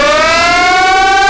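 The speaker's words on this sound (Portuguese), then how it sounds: "Que trem doido de sirene é esse" A civil defense siren wails loudly and steadily, a single sustained rising tone with strong harmonics and no voices over it.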